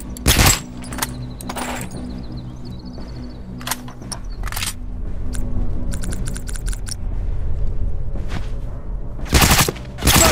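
Rifle gunfire in The Last of Us multiplayer: sharp shots and short rapid bursts ring out loud and intermittently over a low game ambience, with a few faint metallic clicks between them.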